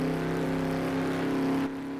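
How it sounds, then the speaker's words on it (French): A fast car's engine revving and accelerating, a loud steady drone close by that drops abruptly near the end. "C'est une voiture rapide."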